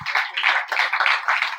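A church congregation breaks into dense, steady clapping during a Spanish-language sermon, a short burst of many hands that stays loud and even throughout.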